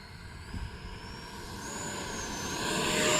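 An E-flite Viper RC jet plane takes off and flies, its electric ducted-fan whine climbing steadily in pitch and loudness as it speeds away, heard alone with no voices.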